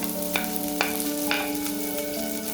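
Garlic, green chilli and ginger frying in well-heated oil in a pan, giving a steady soft sizzle with a few sharp clicks and scrapes of stirring, close by and with no voices.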